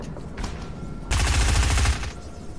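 Fortnite gunfire, a loud burst of rapid automatic shots lasting under a second after quieter background rattling, with no talk over it.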